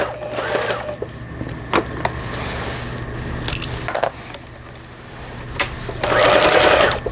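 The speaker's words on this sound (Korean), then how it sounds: "지그재그 바느질," A Pfaff 6120 domestic sewing machine runs a zigzag stitch in steady bursts, its motor hum and needle chatter rising and pausing, with louder stretches near the start and end.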